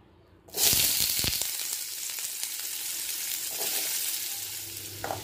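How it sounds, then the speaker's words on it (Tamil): Onions hit hot oil in a pan for a masala puri chaat base, bursting into a loud, steady sizzle that continues close and unbroken, with a few faint clinks. "எண்ணெய் சூடானதும் நம்ம எடுத்து வச்சுருக்க வெங்காயத்தை சேர்த்திடலாம்."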